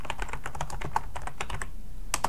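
Rapid keystrokes on a computer keyboard while a folder is renamed, a quick uneven run of crisp clicks at close range with a short pause before a final burst, no voices.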